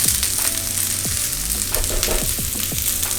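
Vegetables for a lamb stir fry frying in a hot pan, a loud continuous close sizzle with scraping stirs and crackles throughout.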